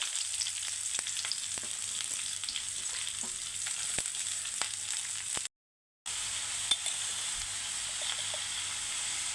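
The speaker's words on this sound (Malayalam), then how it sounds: "കുറച്ച് കടുക് ഇട്ട് കൊടുക്കാം ഉള്ളി സവാള കുറച്ച് അരിഞ്ഞ് വെച്ചിട്ടുണ്ട് അത് കൊടുക്കാം" Mustard seeds and chopped onion fry in oil in a pan, giving a steady close sizzle with crackles, pops and stirring scrapes, broken by a brief silence partway through.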